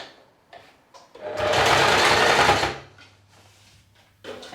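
A sewing machine fitted with an overcast foot stitches the edge of fabric for a gathered summer top, a single whirring burst of about a second and a half between quiet handling sounds.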